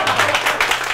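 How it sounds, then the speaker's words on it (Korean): Audience applause for the host at a short lecture event: a dense, steady patter of many hands clapping close by for about a second, with a low hum underneath. "우리 사회자 선생님 대표님한테 박수 한번 주시죠"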